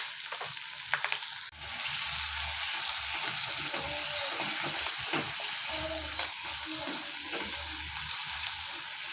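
Curry leaves, tomato and turmeric frying in a pan, a continuous near sizzle with occasional stirring clatter and brief low knocks, no voices.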